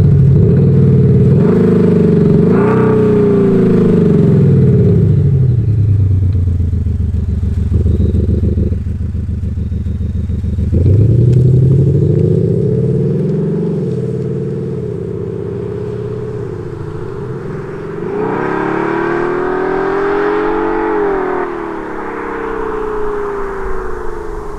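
A Mercedes-Benz C200 4MATIC fitted with an aftermarket sound system gives a loud, deep engine and exhaust rumble while driving, rising and falling as it accelerates and eases off, with no voices.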